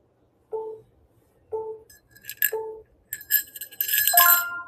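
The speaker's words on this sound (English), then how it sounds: "it's a Polar Express style bell necklace" A Polar Express style bell necklace rings in three clear separate dings, then shakes into a brighter, denser jingle of small bells, close and fairly loud with no voices.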